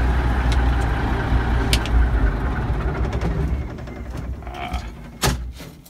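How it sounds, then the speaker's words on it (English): A Peterbilt 359 truck engine runs in a yard with a loud, rough low rumble that shakes the small truck. A few sharp mechanical clanks and a burst near the end break up the rumble. "She's quite an engine for this relatively small truck, so it just shakes it."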